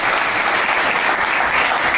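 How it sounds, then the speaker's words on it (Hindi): Sustained audience applause for Firoz sir at a student batch event, dense and steady clapping from a crowd filling the space without a break. "एक बार फिरोज सर के लिए ताली बजाइए,"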